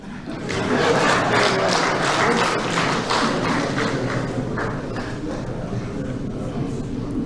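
Applause fills a parliamentary chamber, a dense, sustained wash of clapping from many deputies that swells early and then holds steady at a slightly lower level, with some voices mixed in.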